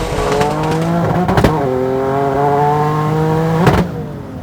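Twin turbo Nissan 350Z making about 950 horsepower on pump gas, accelerating hard through the gears: a loud, steady engine note climbs, breaks off briefly at each gear change, then pulls again close to the car.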